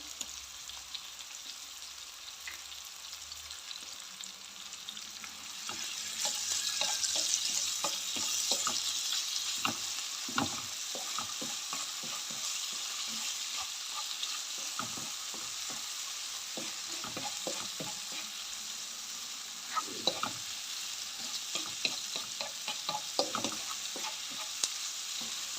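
Chicken breast and garlic frying in a pan, a steady broadband sizzle that swells louder partway through, with scattered utensil clinks and stirring scrapes, close and alone without talk.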